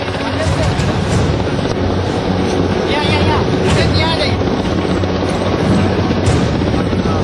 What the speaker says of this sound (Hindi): हेलीकॉप्टर की आवाज सुनकर पानी से घिरे भूखे प्यासे लोग अपनी छतों पर आए